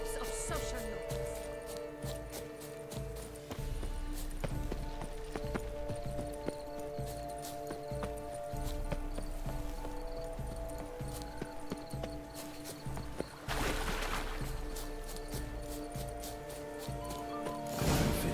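Horse hooves clip-clop in a steady rhythm through The Witcher 3: Blood and Wine, mid-distance under dense game music and ambience, with a brief louder burst near the end.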